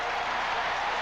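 A big stadium crowd at a 1983 Dolphins versus Saints football game cheers and applauds in a steady, dense roar that sounds distant and fills the whole moment, with no break.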